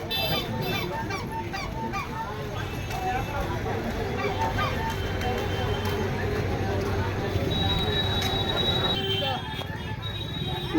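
A Canning–Sealdah local train at the station near the Sundarbans, with horn honks and rail noise sounding steadily beneath a dense, loud crowd murmur of many voices.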